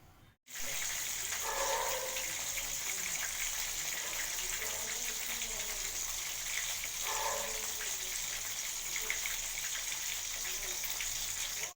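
Battered pieces seasoned with black cumin sizzle in hot oil, a steady bright hiss throughout with a couple of brief bubbling surges as pieces go in.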